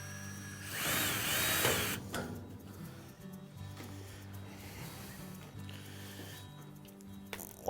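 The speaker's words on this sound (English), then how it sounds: "the second person will have to come in and drive the screw into place" Power driver running screws into a Luxor AVJ42C AV cart during assembly, a loud whirring burst near the start, then steadier motor drone and ratcheting bursts close by, with no talk.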